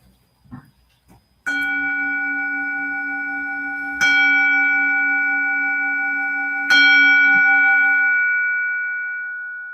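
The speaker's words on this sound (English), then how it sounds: "I'll start by ringing the bell 3 times" A Buddhist service bell rings three times at steady intervals, each strike a clear, resonant tone that hangs and slowly decays into the next, with a few faint soft sounds before the first strike and no talking.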